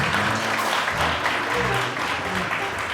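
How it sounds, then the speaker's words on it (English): Steady, loud audience applause fills the room at a golf foundation's awards dinner dance, many hands clapping continuously without a break and no voices over it. "Let's give them a round of applause."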